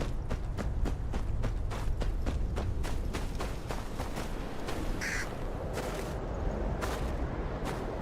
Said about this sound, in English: I know you're not a normal crow.